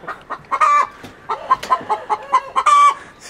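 Four wild chickens on a farm cluck and squawk close by in a rapid, uneven series of short calls, with no talk over them.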